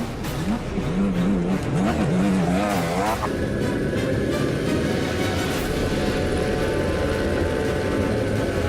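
Rally car driven by Loeb on a Dakar Rally stage, its engine snarling and revving with rapid pitch swings early, then roaring steadily at close range.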